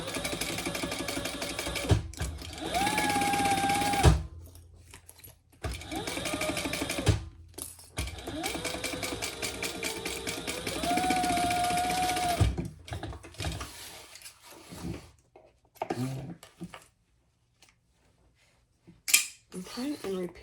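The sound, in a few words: sewing machine basting fabric pieces at 1/8 inch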